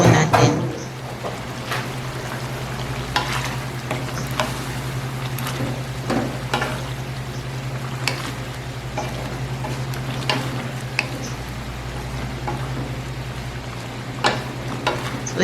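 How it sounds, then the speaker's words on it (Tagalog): Beaten egg is stirred into cooked ampalaya (bitter melon) in a hot pan: a steady sizzle of frying with repeated scraping stir strokes and a low, constant hum underneath. "Lagay na natin yung ating itlog. After nyan, haluin lang po natin."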